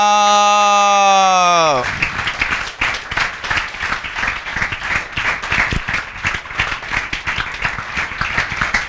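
Loud, sustained applause from students filling a classroom, dense rapid clapping that starts right after a short spoken cheer and continues strongly to the end.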